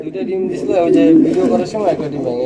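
White fancy King pigeons cooing close by at a pigeon farm, a loud, low, wavering coo rising and falling for a couple of seconds.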